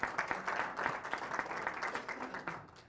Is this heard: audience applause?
yes